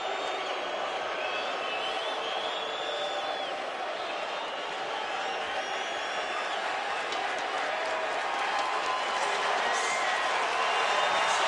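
A large stadium crowd at Soldier Field in Chicago, watching a friendly soccer match, sends up a continuous roar of voices and whistles that swells slightly toward the end.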